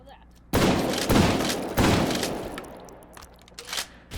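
Rapid bursts of Steyr AUG rifle fire in the VR shooter game H3VR, loud and close, with several sustained volleys in a row and short pauses between them.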